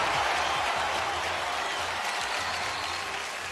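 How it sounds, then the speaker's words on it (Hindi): A studio audience on the quiz show KBC breaks into loud, sustained applause, a dense wash of many hands clapping steadily for the full stretch without fading. "एक बार जोरदार तालियां प्लीज"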